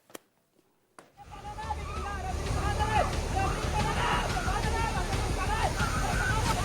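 Floodwater sloshes and churns through inundated streets, a loud, continuous watery rush that follows a few sharp knocks and then runs on under a murmur of voices.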